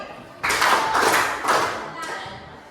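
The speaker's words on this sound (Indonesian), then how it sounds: "Coba ibu tes. Tepuk 3 kali." A classroom of children clapping on cue, a few loud, close bursts of hand claps in uneven rhythm, not quite in unison, with some voices mixed in.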